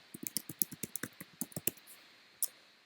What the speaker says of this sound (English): I'm going to go into settings there and just type in my Instagram handle.